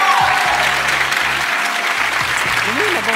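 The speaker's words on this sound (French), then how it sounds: "On peut tous les applaudir encore une fois." A studio audience at a French comedy show applauds in steady, dense clapping that holds loud throughout. Faint voices sit under the applause.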